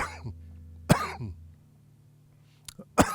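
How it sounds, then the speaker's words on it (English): A few sharp coughs ring out close by, two harsh bursts spaced apart with quiet and a faint hum between them. "Oh, this cough."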